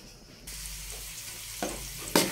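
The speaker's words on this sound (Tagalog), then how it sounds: "nilagyan na po natin ng mantika ng ating kawali" Cooking oil sizzles in a kawali pan while sautéing for a mung bean dish with shrimp and tofu, a steady hiss with two brief louder crackling bursts near the end, no voices.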